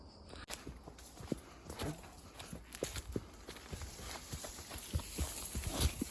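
A horse walks with steady, fairly close clip-clop hoofbeats on a summer evening ride outdoors, the irregular footfalls repeating throughout over faint ambient noise.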